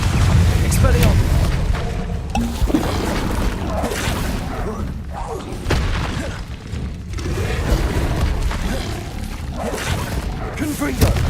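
Blasting spell explosions from Confringo in Hogwarts Legacy, loud repeated booms and whooshes in a busy magical fight, layered under voices talking throughout.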